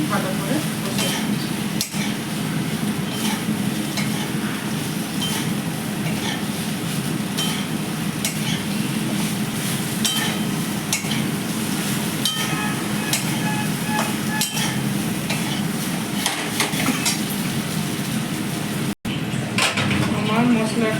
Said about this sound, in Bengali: এবার এগুলোকে আমি ভালো করে কষে নেব।